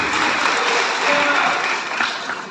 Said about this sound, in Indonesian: Beri tepuk tangan kepada Adinda Hedi Sabri.